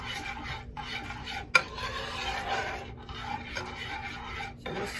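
A spoon stirring chocolate ganache in a bowl, a soft steady scraping and swishing close by, with one sharp clink of metal on the dish partway through and no talking.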